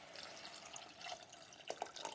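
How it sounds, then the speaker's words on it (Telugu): A little water pours into a pan of spinach dal, a brief quiet gurgling splash with a few faint drips, close by and with no talking. "ఇప్పుడు కొద్దిగా వాటర్ వేసుకుందాం"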